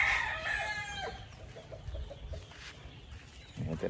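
Gamefarm roosters and hens cluck and crow in a dense chorus, a crow rising early then repeated clucks and calls carrying on close by, with more crowing near the end.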